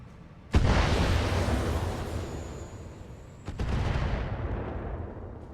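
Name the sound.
weapons fire in video game BattleTech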